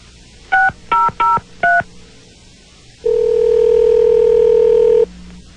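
Touch-tone telephone dialing, four short clear DTMF beeps in quick succession, followed by a loud steady tone lasting about two seconds.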